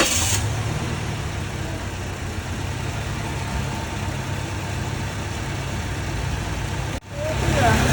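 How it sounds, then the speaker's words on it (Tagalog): A car engine idles in a low, steady hum, close and moderately loud, with a brief dropout near the end before the hum resumes. "Tingnan natin yung tunog ng makina."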